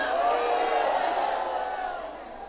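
Rally crowd at a PML-N jalsa shouting back in unison to a speaker, a dense sustained roar of many voices that stays loud throughout and tapers slightly at the end.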